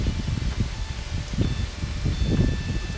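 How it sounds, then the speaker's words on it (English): Gusty wind rumbles and rustles through trees near a river, buffeting in uneven bursts close to the microphone with no voices. "it's getting windy and the wind is blowing off, it's gusting."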